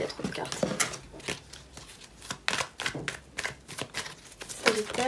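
Tarot cards are shuffled and flicked in quick, soft riffles and taps, close and fairly quiet, with someone speaking French over them at times.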